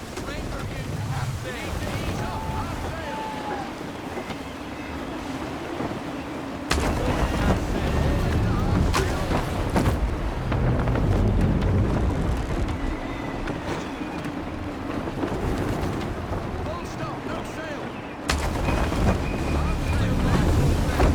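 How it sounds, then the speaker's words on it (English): Gusty sea wind while sailing a ship in Assassin's Creed 3 roars steadily for about twenty seconds, swelling louder in strong gusts, with creaking and water noise beneath and a voice speaking over it. "Gusty winds can be difficult to manage."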